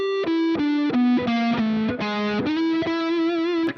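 A distorted electric guitar plays a blues lick with passing tones, a quick sequence of sustained, overdriven single notes that step down and back up, loud and alone.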